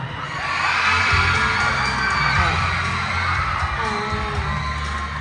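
A large school audience screams and cheers loudly at a singing contest results announcement, a sustained roar of shrieking voices that holds steady throughout.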